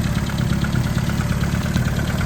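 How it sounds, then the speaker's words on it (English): A modified 1275cc Mini car engine idling steadily up close, a loud even rumble with a fast light ticking running through it. "ticking engine"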